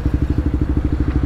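A Honda XRE 300 motorcycle engine rumbles up close in a steady, rapid thumping pulse, loud and continuous with no talk over it.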